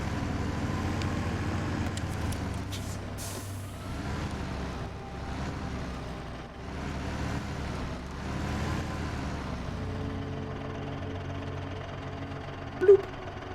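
A truck engine idles steadily in a snow-driving video game, with a low continuous rumble and one short louder bump near the end.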